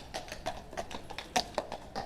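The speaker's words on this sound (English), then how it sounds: "Oh, horses, police horses, City of London," Police horses' hooves clip-clop on a City of London street, a quick run of sharp, fairly close taps in an uneven walking rhythm with faint street noise beneath.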